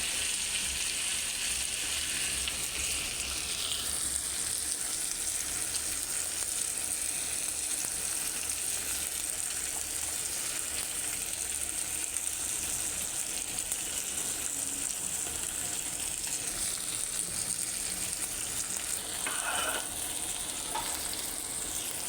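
Sylheti chicken sizzling with satkora citrus, giving a continuous, even crackling hiss that holds steady for the whole stretch, close and fairly quiet, with a few faint bubbly pops near the end and no talking.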